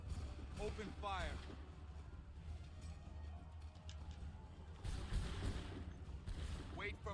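A line of muskets fires a ragged volley in an Assassin's Creed 3 battle. A voice calls out early, then a dense, crackling burst of shots erupts near the end over steady battlefield rumble.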